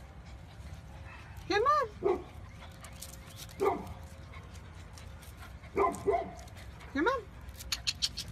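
Golden retriever puppies give several short high whimpers and yips, a handful of separate bursts, while a person repeatedly calls to them in a coaxing voice.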